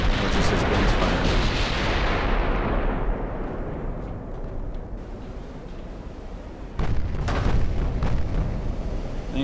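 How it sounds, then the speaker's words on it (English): Heavy battleship guns fire in a naval battle in the Ultimate Admiral game, a dense roaring barrage with booming blasts that fades slightly midway and then swells again with a fresh salvo. "Or just his guns firing."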